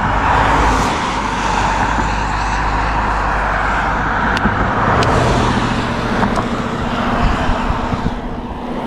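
Couple of cars passing a Brompton folding bike cyclist on a road between Lambertville and New Hope, broadband traffic whoosh under steady wind noise, with a few sharp clicks and rattles from the bike.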